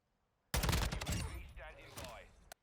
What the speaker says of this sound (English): now we'll do the same test, but we're shooting center mass